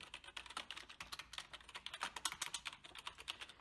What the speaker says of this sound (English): Let me introduce you to the original IBM Aptiva keyboard.